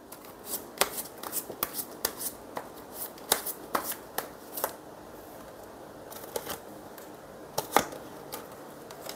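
Tarot cards shuffled by hand before a draw, heard as irregular bursts of crisp, papery riffles and snaps, close and fairly quiet.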